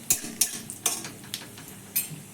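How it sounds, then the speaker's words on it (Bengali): Cumin and black mustard seeds frying in a little oil, giving a soft steady crackle with a handful of sharp pops and spatters spread through the stretch, no voices. "সর্ষে আর জিরেটা যখন সুন্দর করে ভাজা হয়ে যাবে"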